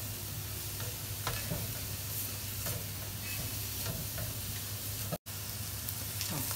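Mushrooms with onion and garlic sizzle in ghee in a pan, a steady close hiss broken by scraping stirs, with one brief dropout near the end.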